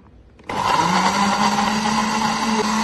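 A blender making apple juice from apple, milk and water switches on abruptly and runs at a loud, steady whirring pitch for the rest of the clip, with no talking.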